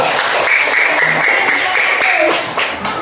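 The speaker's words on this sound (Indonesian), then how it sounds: "Ya baik, tepuk tangan dulu untuk kelompok 3." Classroom applause for a student group's presentation, a dense steady wash of many hands clapping throughout with a few voices mixed in.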